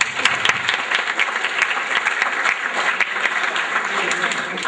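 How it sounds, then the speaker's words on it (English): An audience applauding volunteers at a security conference talk, a dense wash of clapping that carries on steadily throughout, loud and close. "Let's give the volunteers a round of applause,"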